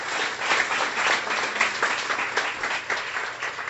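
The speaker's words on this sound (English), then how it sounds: "A warm round of applause for her and the work her team did." A warm round of applause fills a guide dog class graduation ceremony, many hands clapping steadily and fairly close for several seconds.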